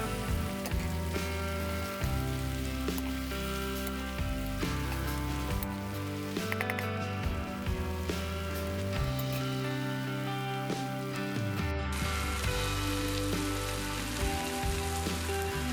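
Eggplant frying in oil in a deep pan with onion and pepper, giving a soft, continuous sizzle and patter that runs under louder background music throughout.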